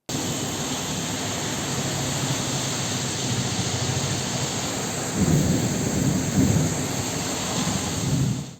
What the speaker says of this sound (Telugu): తెలంగాణలో హైదరాబాద్ సహా పలు ప్రాంతాల్లో కుండపోత వర్షం కురిసింది